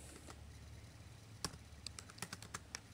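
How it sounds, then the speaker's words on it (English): Light keystrokes on a computer keyboard as a search term is typed, a quiet scattered burst of taps after a near-silent start, with a steady low hum underneath. "So you can just type in your interest."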